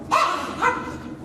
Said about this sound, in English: My old dog's barking back there.